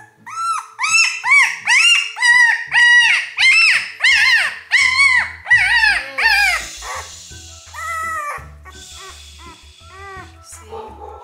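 A two-week-old Goldendoodle puppy whines and cries in a rapid series of high, yelping squeals, close by, tapering into softer whimpers toward the end.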